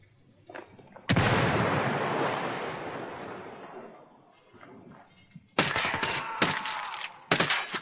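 Frag grenade blast and gunfire in the video game Ghost Recon Wildlands: a loud burst at about one second that rumbles and fades, then later sharp bursts of shots, with faint movement between.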